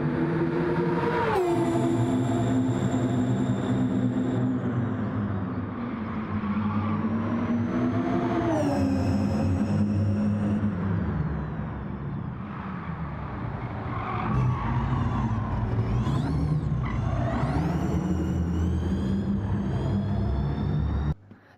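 Electric race car in Gran Turismo 7, a synthetic whining drive tone that rises and falls in pitch as it accelerates and brakes through corners, loud and continuous for over twenty seconds with tire skids.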